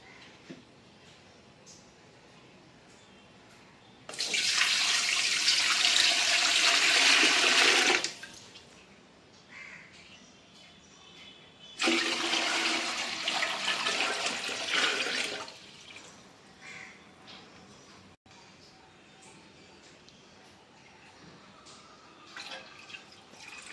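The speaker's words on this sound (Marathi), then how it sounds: "आपण एक मोठा टोप घेऊया आणि याच्यामध्ये पाणी घेऊया." Water gushes from a tap into a large cooking pot in two loud bursts of several seconds each, with quiet pauses and faint drips between.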